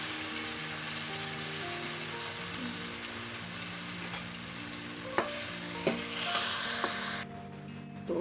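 White sauce being stirred into a pan of creamy Italian pasta over a low flame, a steady soft scraping and stirring with a few sharper clinks of utensil against pan, close and alone.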